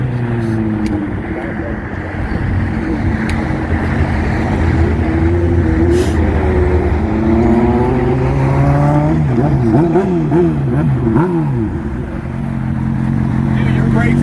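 A Honda CBR 600 sport motorcycle on a test ride passes nearby with a sustained engine roar, pitch rising and falling through revs and gear changes, while people talk over it.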